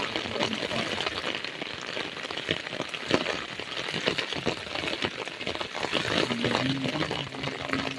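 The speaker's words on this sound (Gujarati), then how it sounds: "શહેરની અંદર ખૂબ જ વરસાદ વરસી રહ્યો છે દોસ્તો" Dense, steady roar of heavy rainfall pattering on surfaces in a city, continuous throughout, with a faint low hum near the end.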